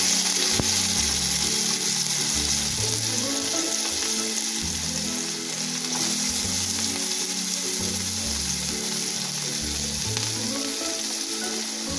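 Chopped onion sizzles steadily in a small amount of cooking oil for a traditional Hunza mutton soup, a loud continuous fry with a low rhythmic rumble underneath throughout.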